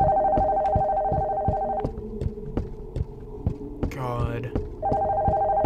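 A phone ringing upstairs in the horror game Nocturnal Visit, a steady electronic ring in repeated bursts over a rhythmic thumping heartbeat, with a short spoken word and a brief game sound between rings.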